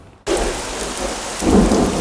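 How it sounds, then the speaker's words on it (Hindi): Heavy rain pours steadily with rolling thunder, bursting in suddenly after a brief quiet moment and swelling louder toward the end, with no voices present. "बाहर बारिश भी बहुत हो रही है"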